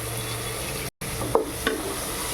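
Tomatoes and turmeric sizzle softly in a pan over a short span. A couple of sharp scraping stirs break through, and the sound cuts out for a brief moment.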